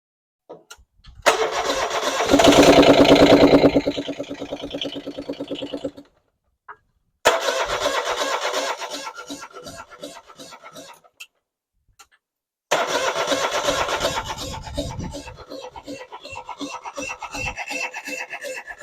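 A John Deere 2653A tractor engine cranks and sputters in three separate bursts with short silences between, each attempt rough and raspy, close by.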